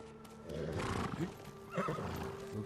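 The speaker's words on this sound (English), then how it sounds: "So, I think my horse is here." A horse in the samurai game Ghost of Tsushima gives a loud, clear neigh, and its hooves clip-clop nearby. Fainter game ambience sits underneath, with no talk over it.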